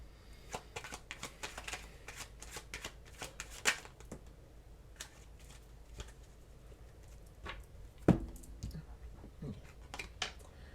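Oracle cards are shuffled by hand in a quiet room, with rapid papery riffles and flicks in irregular bursts, close and soft, plus a sharper tap midway, with no voices.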